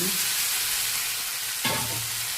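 Brinjal pieces tipped into a hot pan for curry, a soft continuous frying hiss with a brief clatter as they land partway through, no voices.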